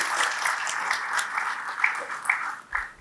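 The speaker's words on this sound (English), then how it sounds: "A big round of applause for all of you." Audience at a university orientation for newly admitted students applauds steadily, a dense crowd of claps filling the room for about three seconds before tapering at the end.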